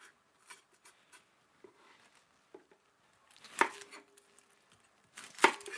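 Green peppers are cleaned out by hand on a kitchen surface, sparse faint taps and soft knocks, then two sharper close clicks of knife or handling noise in quiet surroundings.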